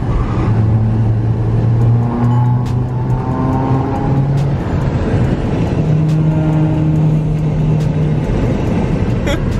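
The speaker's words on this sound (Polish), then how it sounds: "mamy kurwa sportowy wydech" Car with a sport exhaust accelerating hard, loud and close, its engine note climbing through rising gear pulls with brief dips at shifts, a raspy, booming exhaust tone dominating throughout.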